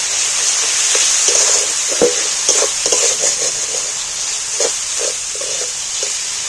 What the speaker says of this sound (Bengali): আবারও ভালো করে কষিয়ে নেব